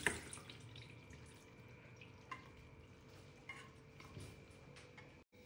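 Cooked Hakka noodles and their water are poured into a kitchen colander to drain, giving faint, steady splashing and trickling with a few soft knocks, quiet and close.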